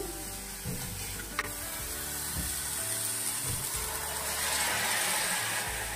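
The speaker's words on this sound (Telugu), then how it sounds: "ఇప్పుడు కొంచెం గరం మసాలా లైట్గా వేగాలన్నమాట." Garam masala spice paste with turmeric frying in a pan for carrot rasam, a steady soft sizzle close by with occasional faint stirring scrapes.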